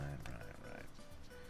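A pig in the game Tropico 5 gives a short, faint grunting oink under a steady game background and a speaking voice.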